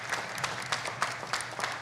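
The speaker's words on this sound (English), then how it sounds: "Can we give them a round of applause" Applause at a school board meeting for a school musical: a modest, fairly quiet patter of clapping with regular bursts of claps, heard from a distance in a hall.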